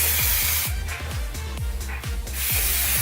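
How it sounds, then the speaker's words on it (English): Several quick, breathy bursts of Kenra dry texturizing aerosol hair spray, pulsing in an uneven rhythm, close to the microphone. "I'm using the KENRA dry texture spray."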